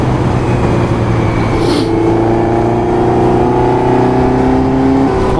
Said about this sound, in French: Donc là on peut voir que ça accélère bien, il n'y a pas de problème.